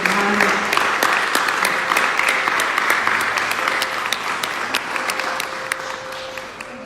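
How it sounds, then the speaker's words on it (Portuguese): Church congregation clapping in praise after a prayer, loud, sustained applause from a large group holding steady and then easing slightly, with a faint tone underneath. "As palmas louvam o Senhor."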